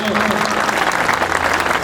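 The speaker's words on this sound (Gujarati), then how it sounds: "તાળીઓ પાડો" A crowd claps loudly and steadily at a community education ceremony, the dense applause continuing without pause.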